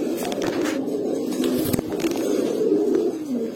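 A pair of Pakhi pigeons coos nearby, low throaty calls rolling on steadily, with a few brief sharp background noises and no talking.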